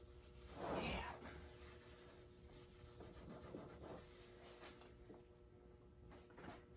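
Cloth rubbed firmly against a wooden piece during French polishing restoration, with soft scrubbing strokes, the strongest early on and quieter ones after, close by and fairly faint.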